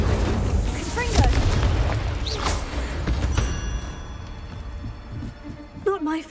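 A Confringo fire-blast spell in Hogwarts Legacy bursts with a deep booming blast and crackling debris among game sounds, close and loud, with someone speaking over the action.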